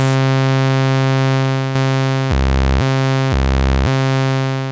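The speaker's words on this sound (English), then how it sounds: "It's nice and buzzy like a saw should sound." Sawtooth wave from a Doepfer A-110-6 trapezoid VCO, a loud, buzzy sustained synth drone that drops in pitch twice, sliding down and back up.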